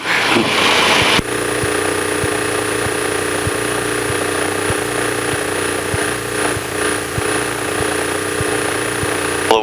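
A steady engine drone with a rhythmic pulsing beat, loud and close, as from inside a small propeller aircraft cabin running continuously.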